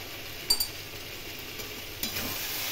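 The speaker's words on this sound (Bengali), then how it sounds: "এখন বারবার জল দিয়ে দিয়ে খুব ভালো করে মশলা এবং এঁচোড় আমি কষিয়ে নেব।" Cumin, turmeric, salt and red chilli powder frying with young jackfruit in a pan, heard as a soft steady sizzle with a couple of brief scraping stirs and light clinks, no voices.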